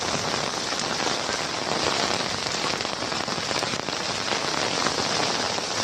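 Torrential rain lashes down in Kalyan, an unbroken loud roar of water striking hard surfaces nearby, constant in level from start to finish without speech.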